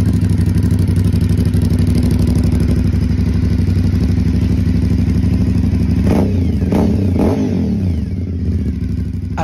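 A 1000cc Rusi motorcycle engine runs loud and steady close by, with a deep, throbbing idle and a couple of quick throttle blips near the end.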